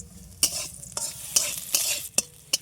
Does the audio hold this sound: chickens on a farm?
no